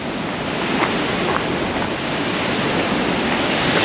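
Aharbal waterfall in Kashmir pouring and flowing, a loud, steady broadband roar of rushing water with no breaks, heard close and alone.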